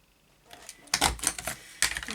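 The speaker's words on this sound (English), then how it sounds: "you punch once, line it up with the pattern, punch again" A border punch clamping down on a paper edge in a craft setting: two sharp crunchy clicks about a second apart, each with a brief rattle, close and fairly quiet, preceded by faint handling noise.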